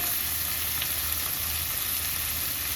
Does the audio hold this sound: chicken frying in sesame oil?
yes